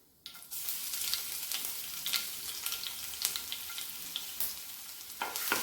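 Crushed garlic hits hot oil with popping mustard seeds for a potato fry, a sudden loud sizzle after a quiet start, with crackles and spatters throughout and a fresh burst near the end.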